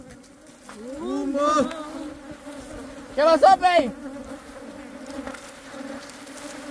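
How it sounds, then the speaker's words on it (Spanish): Bees buzz in a dense, wavering drone close by at opened hives being smoked, swelling in two louder bursts, with a brief spoken remark mixed in. "Ahorita ya se fueron todas las abejas, pero media vez las abrimos, regresan."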